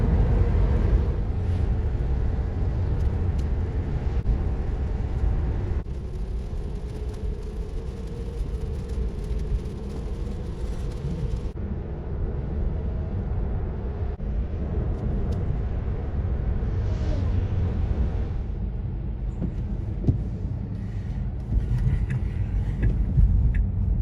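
Steady engine drone and road rumble of a 2021 BMW X7 cruising at 120-130 km/h in bad weather, a constant low roar throughout with no talking.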